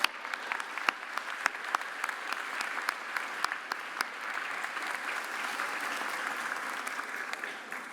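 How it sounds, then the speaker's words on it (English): Steady audience applause fills a commencement auditorium after the musicians' performances, dense clapping with sharp individual claps standing out, moderately distant and sustained throughout without speech. "Let's give all the talented musicians we've heard today a round of applause."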